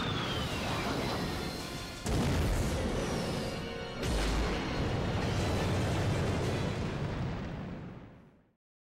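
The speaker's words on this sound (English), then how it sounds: "blowing a huge explosion at the end of the game" Massive in-game explosion closing out Resident Evil Code Veronica: a continuous roaring rumble with heavy booms near 2 and 4 seconds, sustained loud debris-like noise, then a fade to silence at the end.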